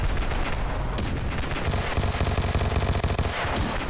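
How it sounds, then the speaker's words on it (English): A 25mm autocannon on an LEV-25 armored vehicle in Ravenfield hammers out rapid, heavy bursts, with loud booming shots layered over battlefield noise and growing into a steady pounding stream. "It's got a freaking 25mm autocannon."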